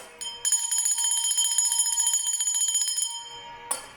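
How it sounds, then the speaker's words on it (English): A bell rung for sound cleansing, a close bright metallic ringing with a rapid trembling pulse that sustains for about three seconds, then stops, followed by a short faint strike at the end. "So I'm ringing the bell."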